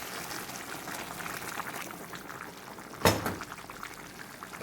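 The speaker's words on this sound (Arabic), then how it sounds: "هنضيف لها شوية مية." Hot water from a pot boiling on the stove poured into a cooking pot of tagine with vegetables, a steady liquid hiss and trickle with a sharp splash partway through, close by, with no talking.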